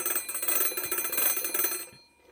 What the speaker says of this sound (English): and it should sound the bell